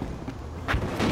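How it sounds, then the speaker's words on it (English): In the online shooter Battlefield Hardline, a C4 charge goes off as a single short, muffled boom partway through a brief moment of gameplay noise. "I think we're being C4'd."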